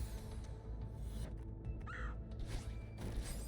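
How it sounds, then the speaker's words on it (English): A crow-like caw from the video game Celeste, a short call heard over a steady low game music and ambient bed, moderately faint, with no talking. "Don't like the bird sound here? It's just saying hi."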